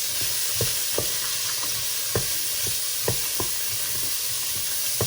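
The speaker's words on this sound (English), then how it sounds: "I'm also going to be adding the carrots. And I'm going to mix." Onions and carrots hiss steadily in a pan, broken by sharp, spaced knocks and scrapes of a spoon as they are stirred. The sound is close, with no voices.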